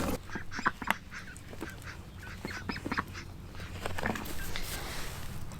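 Backyard ducks quack in scattered bursts at moderate distance, overlapping honks and calls over a low steady background hum, with no talk.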